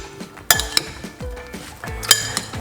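Salad ingredients tossed in a bowl with utensils, giving sharp clinks and scrapes of metal against the dish in irregular bursts, two louder strikes standing out, close and without talk.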